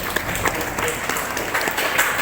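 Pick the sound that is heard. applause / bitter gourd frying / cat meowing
applause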